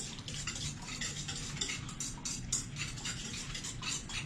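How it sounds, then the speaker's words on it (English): Two pudding-mix ingredients are whisked together in a bowl, giving a steady, fast run of light ticking taps and scrapes from the whisk, close and continuous with no talk. "You're gonna whisk those 2 things together real quick"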